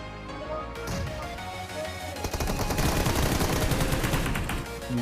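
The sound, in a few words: gunfire in battle royale video game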